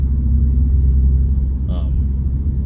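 A steady low engine rumble fills a car cabin in dense traffic, continuous and close, with one brief higher sound partway through.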